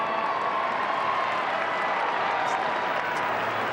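Crowd applauding and cheering at AAMI Stadium during an AFL football match, Carlton against Adelaide, a steady wash of distant clapping and crowd noise with no clear voices on top.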